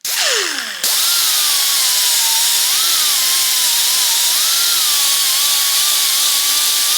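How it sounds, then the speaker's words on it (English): A power buffer whines loudly and continuously while polishing an aluminum frame part for a 2012 KX250F motorcycle rebuild, starting with a brief falling pitch and then holding a steady wavering drone, with no talking. "I've got it all buffed out here"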